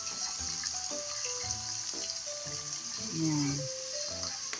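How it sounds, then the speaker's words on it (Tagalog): Garlic, onion and tomato sauté in a pan for ginisang munggo with shrimp, making a moderate frying sizzle with clinks of stirring, while a voice talks intermittently over it. "Igisa-isa muna natin hanggang sa mabas yung aroma ng ating bawang at sibuyas"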